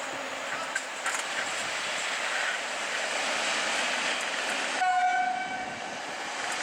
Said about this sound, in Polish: EP07 344 z pociągiem NIDA, TLK NIDA